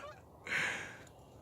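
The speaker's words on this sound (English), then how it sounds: "Some of our local Canadian geese. Are you guys headed back off to Canada?" A single loud honk from a local Canada goose rings out nearby in open air, one drawn-out call standing alone over quiet background.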